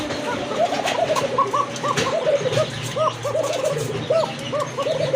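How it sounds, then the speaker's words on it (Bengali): A female pigeon coos in a steady run of repeated, close rolling calls against a busy background of other birds and faint voices. "ডাকতেছে, এটা নয়, পেছনেরটা হচ্ছে আপনার মাদি কবুতর"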